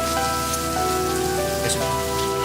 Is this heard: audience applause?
no